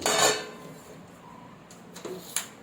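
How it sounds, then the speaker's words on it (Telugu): A metal pan is set down on a kitchen stove with a loud clank, followed by a few fainter metallic knocks and clinks in a quiet room. "స్టవ్ ఆన్ చేసుకొని ప్యాన్ పెట్టుకొని"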